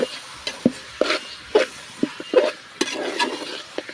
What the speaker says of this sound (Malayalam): നന്നായിട്ടൊന്ന് എല്ലായിടത്തും മസാല എത്തുന്ന പോലെ നല്ല രീതിയിൽ മിക്സ് ചെയ്ത് കൊടുക്കാം